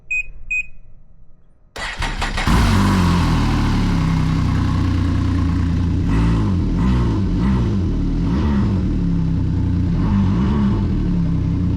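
A Ski-Doo 1200 snowmobile with an MBRP muffler cranks, catches and settles into a loud, steady throaty idle with occasional slight revs, preceded by a few electronic beeps.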